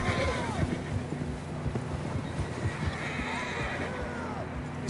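Horses neigh and whinny on a rough trail while hooves clip-clop steadily beneath, with a second whinny later and voices faintly in the background.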